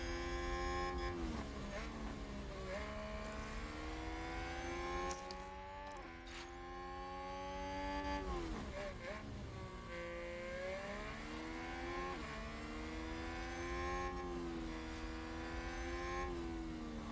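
F1 race cars in the F1 Manager 2022 video game, multiple engines whining and revving continuously with rising and falling pitch sweeps as cars accelerate and pass, loud and steady throughout.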